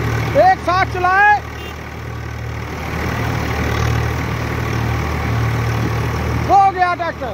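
A 42-horsepower Swaraj tractor idles with a steady low diesel rumble throughout, close by, while people talk over it at the start and end.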